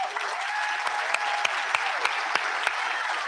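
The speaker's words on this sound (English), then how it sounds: "A big round of applause for Helen." An audience at a state of the city address applauds, a dense continuous patter of many hands clapping with a few sharper individual claps standing out, heard from a distance and fairly soft.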